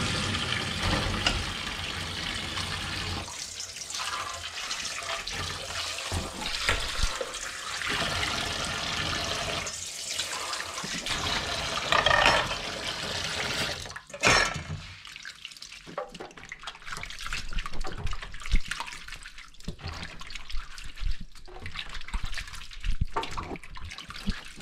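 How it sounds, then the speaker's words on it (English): Running tap water splashes into a sink while freshly scooped pumpkin seeds are rinsed clean of fibre, loud and continuous at first, then turning into softer trickles and handling noises. "the next step will be to wash thoroughly the seeds, get all the pumpkin fibre off of them"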